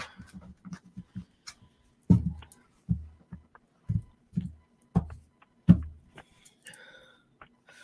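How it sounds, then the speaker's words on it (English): A series of soft, papery slaps and riffles in short bursts of tarot cards being shuffled close by, with brief pauses between bursts. "Let me take a quick shuffle."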